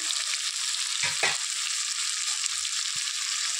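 Spice masala being stir-fried in a pan, with a steady bright sizzle throughout and a few soft scraping stirs near the start and middle.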